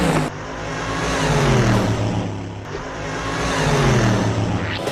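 A moving truck drives by, its engine note rising and falling in two passes with a whooshing swell, close and loud.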